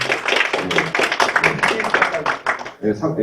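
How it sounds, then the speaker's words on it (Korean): Dense applause and clapping at a Chungcheongnam-do Medical Association officers' workshop for an award recipient. It rolls steadily for nearly three seconds, then fades as a voice speaks. "박수 한번 쳐주시죠"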